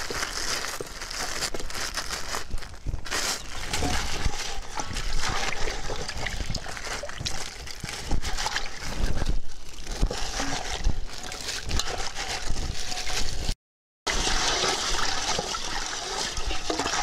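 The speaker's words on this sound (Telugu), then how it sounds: "ఇలా నీటిలో కరగబెట్టుకున్న బెల్లం మిశ్రమాన్ని ఆవు పేడ నేతిలో కలిపిన దాంట్లో మనం పోసుకోవాలి" Jaggery dissolved in half a litre of water is poured into a mixture of cow dung and ghee, making close splashing and trickling sounds with wet sloshing and a brief pause near the end.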